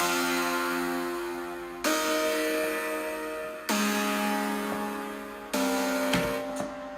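Layered synth chords, each of three voices split across separate Spire synth instances in FL Studio, play as four sustained chords that change about every two seconds, bright and full with no talking.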